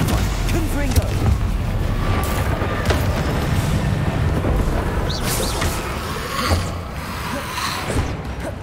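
Dense, continuous rumbling battle noise from fiery Confringo blasting spells in Hogwarts Legacy played on hard mode, with booming low-end impacts and scattered bright crackles running throughout, near and loud, with spoken spell calls mixed in.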